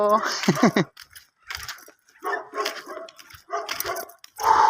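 A large dog barks and yips several times in short bursts, fairly close, mixed with brief human vocal sounds, outdoors in cold weather in Europe.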